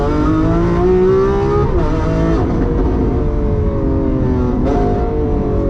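Straight-piped Lamborghini Aventador Ultimae V12 revving hard while driving, loud and close, with rising pitch sweeps as it climbs through the revs and abrupt drops at gear changes near the middle and end.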